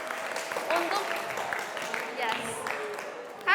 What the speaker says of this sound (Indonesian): Bisa tepuk tangan dong untuk teman kalian.